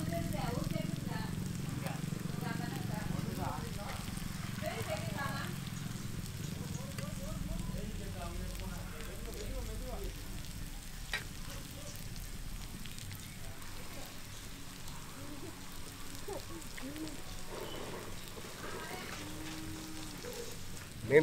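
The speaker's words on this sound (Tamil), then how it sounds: "மீன் நல்லா ஃப்ரை ஆயிடுச்சு." Seer fish frying in a pan over an open fire in a village setting, a steady soft sizzle and crackle that continues throughout with faint background noise.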